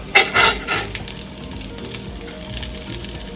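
Panko-crusted salmon patties fry in shallow oil with a close, bright crackling sizzle. It is loudest in the first half-second, then settles into a steady hiss with small pops, and no voices are heard.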